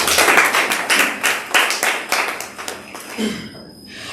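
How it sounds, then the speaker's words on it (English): Audience clapping at a Miss Western 2021 pageant event: a burst of crowd applause with distinct sharp claps, loud at first and then thinning out and fading over about four seconds. "Let's give it a round of applause."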